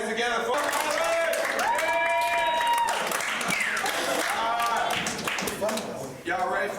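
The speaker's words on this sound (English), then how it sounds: "All right, put your hands together for" Audience at a stand-up comedy show clapping and cheering, a busy wash of applause with voices rising through it, fading slightly toward the end.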